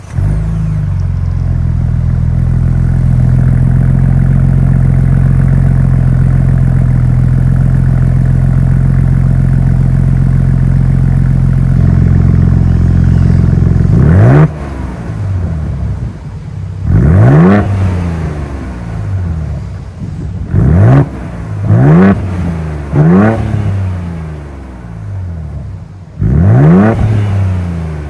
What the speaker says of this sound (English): let's fire up this 3-liter twin turbo V6 and hear how she sounds